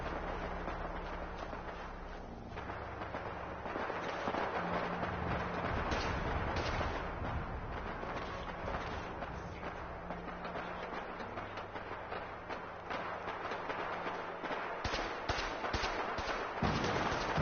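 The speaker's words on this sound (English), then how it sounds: "I hear gunfire in the background and a vertibird." Gunfire in the Fallout 4 video game crackles continuously in the background, with repeated distant shots and bursts layered over a dense, steady rumble and the drone of a vertibird aircraft, and no voices.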